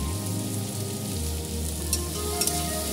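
Egg omelette pieces frying in oil with salt and turmeric, a steady close sizzle with light stirring scrapes and a couple of brief louder crackles near the end.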